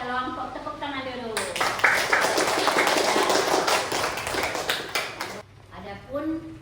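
A class of students claps together in a classroom, a burst of rapid, uneven hand clapping lasting several seconds, framed by a teacher's voice before and after.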